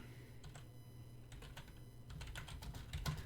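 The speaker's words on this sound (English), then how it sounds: "I'm typing a message" Soft, fairly faint typing on a computer keyboard at a convention show floor, scattered keystroke clicks in irregular bursts over a steady low background hum, no talking.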